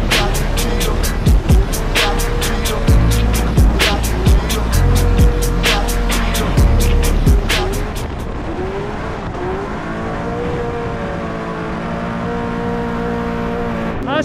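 Video game race car with a revving engine and rapid repeated gear shifts, loud and close, followed by a smoother lower engine drone after about eight seconds.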